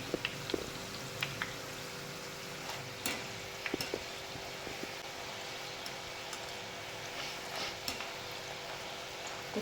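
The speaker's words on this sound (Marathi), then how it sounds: "छान ह्या खरपूस आपण तळून घेऊया शंकरपाळ्या" Masala shankarpali snacks deep-frying in oil over a medium flame, a soft continuous bubbling fry with scattered small pops and ticks, fairly faint and steady throughout, no voices.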